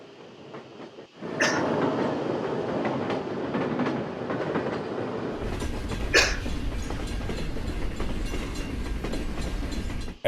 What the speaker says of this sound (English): The train then began to roll downhill toward Lac Mégantic, 7 miles away.